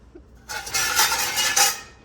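Metal cooking pots and utensils clatter and clink as they are pulled out of a kitchen oven used for storage, a close burst of rattling lasting over a second.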